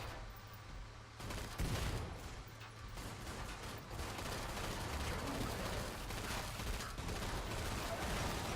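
Gunfire in the Killing Floor 2 shooter game, dense overlapping bursts of shots and mechanical clatter that start after a second and keep going, fairly loud and continuous.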